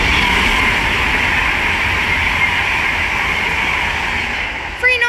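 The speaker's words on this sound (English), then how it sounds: "right there is an Avanti West Coast Class 390 Pendolino, working service from Manchester Piccadilly to London Euston" An Avanti West Coast Class 390 Pendolino electric train, running a Manchester Piccadilly to London Euston service, rushes past close by with a loud, steady roar that holds for several seconds before easing slightly at the end.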